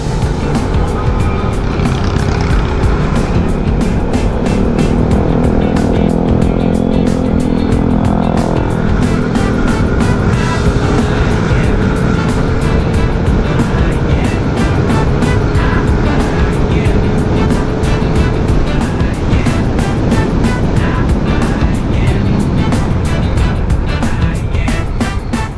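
A Honda Click i125 scooter with a CVT tune drones steadily while riding through Valenzuela traffic, its engine hum under loud, constant wind buffeting, with no talking.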